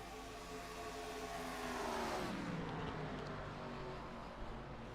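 ARCA race cars roar down the back straightaway, a loud engine drone with pitch shifting as cars sweep past, fairly distant and continuous.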